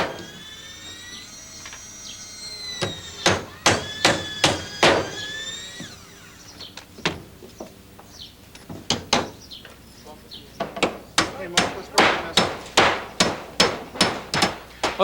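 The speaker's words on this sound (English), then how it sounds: "when you nail the nail in that pilot hole," Nails hammered into deck boards through pilot holes, sharp ringing blows struck in quick bursts of rapid hits with short pauses between, close and loud.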